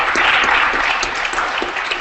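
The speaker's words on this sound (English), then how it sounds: "let's give him another round of applause" A live audience gives a short burst of clapping at the end of a stage talk, loud and close, dense and even throughout its brief span.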